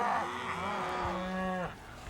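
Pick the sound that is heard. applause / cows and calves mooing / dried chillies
cows and calves mooing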